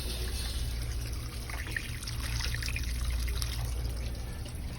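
Water trickles and pours steadily into the salt brine tank of a Fleck 2850 water softener, a continuous close-up flow with no talking.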